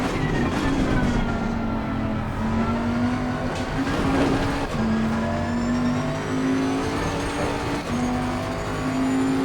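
In Assetto Corsa Competizione, a Bentley GT3 race car at Imola holds a steady engine drone as another car draws alongside on the left, with a rising and falling tone through gear changes, loud and close throughout.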